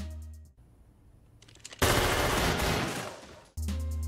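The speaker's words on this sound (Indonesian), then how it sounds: "Secara mendadak, mereka langsung beradu tembak dalam jarak pendek." Close-range gunfire in a film shootout erupts as a loud, dense burst of rapid shots lasting a couple of seconds, set between quieter dramatic score and ambience.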